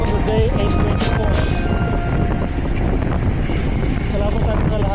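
Strong wind blows during the L'Étape Dubai 112 km road bike race, a loud, constant roar and buffeting against the microphone that lasts the whole stretch.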